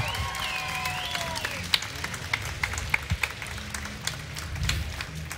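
A convention crowd at New York Comic Con applauds and cheers for manga creator Masashi Kishimoto, a broad wash of clapping with distinct sharper claps, a few whistles and crowd noise in a large hall.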